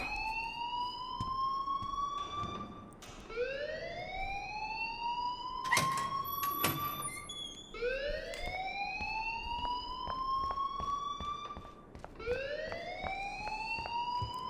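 An alarm blares in the adventure game Life Is Strange, its rising whooping wail repeating about four times in a regular cycle, loud and close with sharp clanging bursts between sweeps and no talk.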